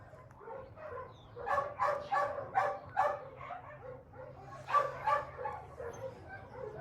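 Dogs in a rescue setting, one of them pregnant, whimper and give a run of yips and short barks close by, bursts rising and falling over several seconds.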